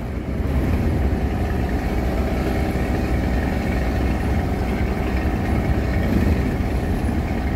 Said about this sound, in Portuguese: eu gosto demais do ronco do Scania